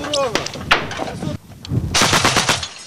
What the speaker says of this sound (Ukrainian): Один такий Такий пристрій заважки майже тонну за хвилину робить зо дві тисячі пострілів